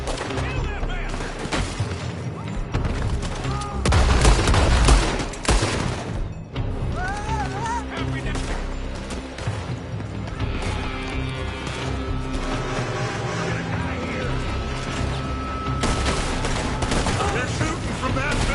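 Heavy gunfire in a Red Dead Redemption 2 shootout, with shooters firing from a building: rapid, overlapping shots and bursts, loudest early on, then continuing rattles and bangs while voices shout between them.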